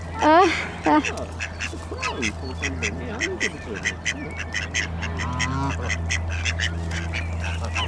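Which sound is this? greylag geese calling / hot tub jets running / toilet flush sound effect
greylag geese calling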